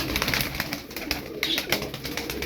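Fancy cobra pigeons coo in a steady, close run of soft calls, with rustling and bird noise filling the background.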